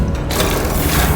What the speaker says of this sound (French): on va commencer par charger des obus classiques